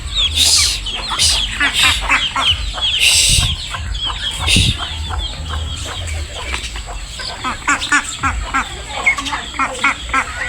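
Chickens clucking close by, with busy bursts of clucks and squawks over outdoor farmyard noise, some louder calls standing out.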